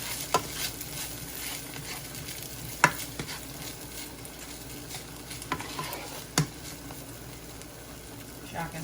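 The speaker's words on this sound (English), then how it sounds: "two of these eggs in there in the middle just to fry those up with this rice" Two eggs fry alongside rice in a pan for shrimp fried rice, making a soft continuous sizzle with scattered sharp taps of a utensil against the pan; a voice is faintly present.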